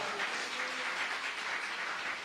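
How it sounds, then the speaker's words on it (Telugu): Church congregation at an archbishop's service claps together in a dense, steady wave of applause that holds evenly at moderate distance. "గట్టిగా చప్పట్లు కొడదా."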